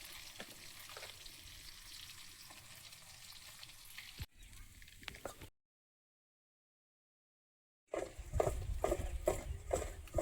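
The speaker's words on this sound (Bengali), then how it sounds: "মাছ ভাজা" Fish fries in plenty of oil with a soft, steady sizzle, broken by a few seconds of complete silence before a louder, busier crackle returns with stirring.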